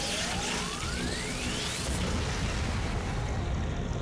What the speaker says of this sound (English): Made a friggin' atomic explosion